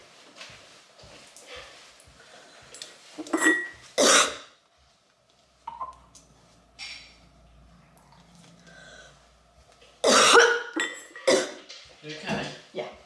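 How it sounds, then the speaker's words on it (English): A person coughs in short, harsh bursts at close range, mixed with clinking dishes and cutlery, while people talk in between. "Are you coughing up more blood?"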